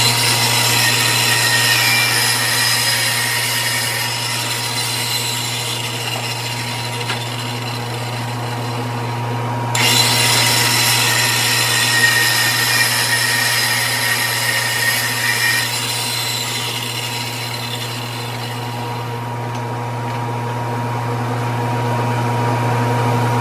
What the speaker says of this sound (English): it is time to move over to the radial arm saw.